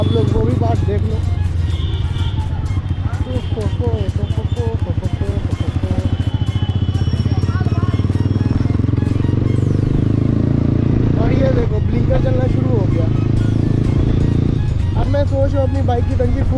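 A motorcycle rides along with a loud, steady engine drone and road rumble throughout, while people talk over the noise.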